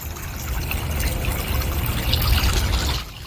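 Water pours and rushes over a washed-out road at Martha Wellman Park in Tallahassee, a steady close splashing flow that drops off near the end.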